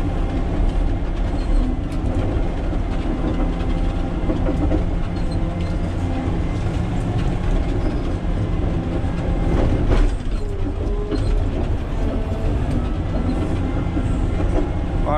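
A Caterpillar 120K motor grader works a muddy slope, its engine and machinery giving a loud, steady rumble with rattling, clanking mechanical noise throughout and no voices.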